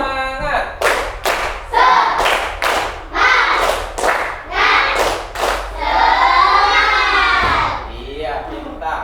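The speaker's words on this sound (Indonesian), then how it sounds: "Tepuk semangat." Schoolchildren in an Indonesian classroom clap together in a chanted rhythm routine, bursts of group hand claps alternating with children's voices calling out, close and lively.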